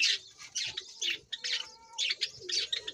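Java sparrows chirp close by in quick, bright bursts, with several short calls overlapping in an irregular rhythm and soft quiet gaps between them.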